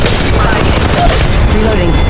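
Loud, sustained blast and rumbling roar of a grenade explosion in Apex Legends Mobile, filling the whole moment with dense crackling debris, with voices faintly mixed in.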